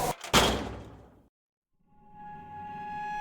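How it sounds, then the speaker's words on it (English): A door shoved closed with a sudden heavy thump and brief rattle, followed by a second of silence and then a low, tonal hum. "I shoved the door closed"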